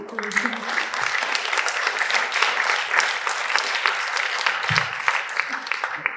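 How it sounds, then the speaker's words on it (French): An audience at the Licra trophy ceremony applauds a member of the education commission, dense sustained clapping from a hall full of people at a steady, fairly loud level with no voices over it. "j'aimerais que vous l'applaudissiez tous"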